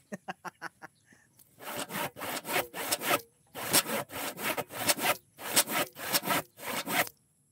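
Hand sawing through wood: a few short strokes, then a steady run of loud, rasping back-and-forth strokes in a regular rhythm, close by, with no voices.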